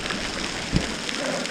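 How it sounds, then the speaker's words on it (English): Hail falling outdoors beside an Audi R8, a dense steady patter of small ice pellets with one brief louder thump midway. "it's actually hailing right now"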